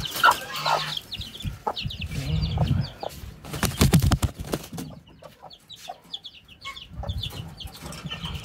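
Hens and chicks cluck and peep in bursts, with some wing flapping and rustling nearby, no talking.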